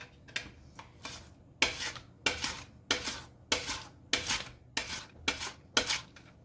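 A potato being sliced thin on a slicer for horseradish scalloped potatoes, about ten rhythmic rasping strokes in quick, even succession, close and alone.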